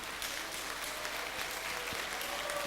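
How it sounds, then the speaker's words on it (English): A conference plenary audience applauds, a broad, even patter of many hands heard from a distance, moderately faint and steady throughout. "Please join me to applaud Iceland, which legalized gay marriage last month, to applaud Argentina."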